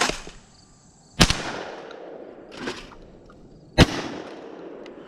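Two sharp, loud reports from a Mossberg SA-28 28 gauge semi-automatic shotgun fired at an outdoor range, spaced a few seconds apart, each with a quick echoing tail, plus a fainter distant shot between them.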